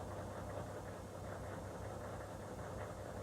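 An HMMWV engine being cranked during a fuel system check gives a steady low mechanical churn and rumble, even and continuous, faint, with no voices.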